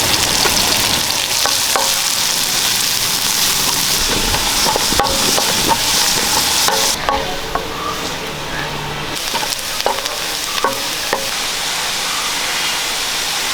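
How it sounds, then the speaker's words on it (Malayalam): Sliced onions and slit green chillies frying in hot oil for a chickpea curry, a loud, continuous sizzle with stirring clatter and utensil knocks, dipping briefly midway. "രണ്ട് മീഡിയം സവോള അരിഞ്ഞിട്ടിട്ടുണ്ട് അത് ഇട്ടു"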